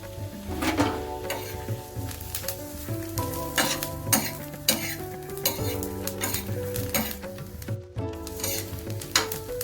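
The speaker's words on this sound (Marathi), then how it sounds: "मिरच्या भाजून झाल्याच्या नंतर आपल्याला लसूण टाकायचं आहे" Garlic sizzling in a pan with roasted green chillies, a loud continuous crackle under frequent metallic clinks and scrapes of a spoon against the pan, close up, with a brief quiet gap near the end.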